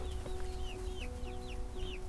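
Chickens clucking, with soft repeated chirpy clucks scattered over a steady background hum, close and moderate in level, no talk.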